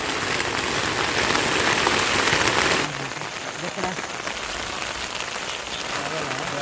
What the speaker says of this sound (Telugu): ఫ్రెండ్స్ మేము ఇలా టెంట్ వేసామో లేదో వర్షం అయితే చెదగొట్టేస్తుంది